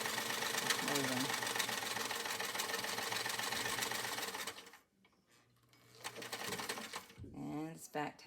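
A vintage Singer Spartan 192k sewing machine runs in a steady mechanical whir, stopping briefly, then starting again with a short back-tacking burst and a voice talking over it.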